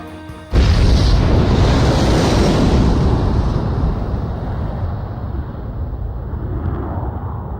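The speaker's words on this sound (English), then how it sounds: "Mass driver hit by cruise missile." Cruise missile striking a mass driver in Ace Combat 5, a sudden loud explosive boom that swells into a long roaring, rushing rumble and slowly tapers off, near and overwhelming, with no talk over it.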